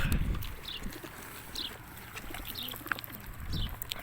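Homing pigeons cooing softly at a distance, a few low burbling calls over outdoor ambience.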